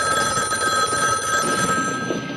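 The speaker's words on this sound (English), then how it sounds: "Your phone's ringing." A telephone rings inside a house in the 1974 horror film Black Christmas, a loud, continuous bell trill with no talking over it.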